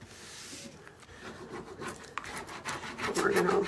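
Painted artwork is rubbed down with a few scratchy, irregular rubbing strokes, close and growing louder toward the end, with faint movement noise between strokes.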